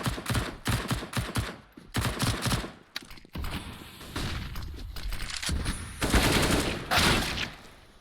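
Counter-Strike gunfire in an ESEA Main match: rapid bursts of shots crackle in quick clusters, then give way to longer, dense sprays of automatic fire that stay loud and close throughout.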